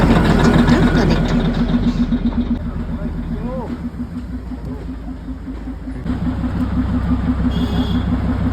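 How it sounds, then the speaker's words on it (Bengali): A diesel locomotive engine of the Darjeeling toy train rumbles nearby with a steady, throbbing idle, a brief squeal rising over it as a person talks over the engine noise. "এই যে ডিজেল ইঞ্জিন আসছে"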